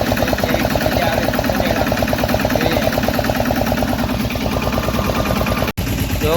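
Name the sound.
tractor engine running in peanut field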